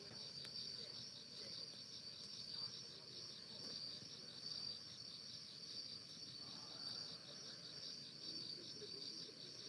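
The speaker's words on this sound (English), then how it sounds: "Hear the crickets?" Crickets chirp steadily through a quiet night in a rapid, even pulsing trill, continuous and moderately distant, with faint background hum.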